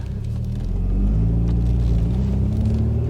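Engine rumble from inside a Rover R8 216 Coupe with CVT transmission pulling away, a steady, loud low drone that swells slightly as it gets moving.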